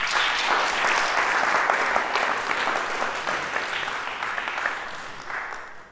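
An audience at an art talk in a church breaks into sustained, dense applause that holds steady, then gradually thins and fades toward the end.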